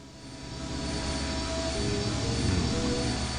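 Engine room machinery in the video game I Have No Idea, But I Must Play, a steady deep roaring hum that swells slightly and keeps going, loud and continuous with no talking.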